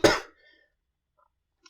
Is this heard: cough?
yes